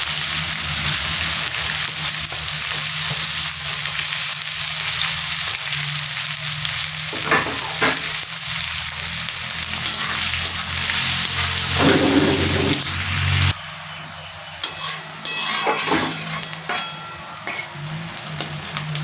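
Chopped onions fry in a hot pan for a Bengali pointed gourd and prawn curry, a continuous close sizzle with occasional stirring scrapes that thins out in the final seconds.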